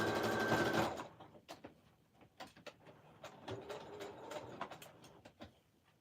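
A sewing machine stitching a tattered quilt runs loudly and steadily for a moment, then stops, followed by quiet clicks and rattles of the machine and fabric being handled nearby.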